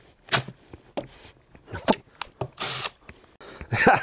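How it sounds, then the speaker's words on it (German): Intermittent ratcheting clicks and scraping bursts as a rail is screwed down on a homemade drill stand, close and fairly loud, in irregular short spurts with quiet gaps between. "Also, schrauben wir die mal einfach fest."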